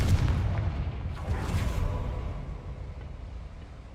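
Confringo spell explosion in Hogwarts Legacy, a loud low rumbling boom at the start that rolls on as a sustained roar and slowly fades over a few seconds.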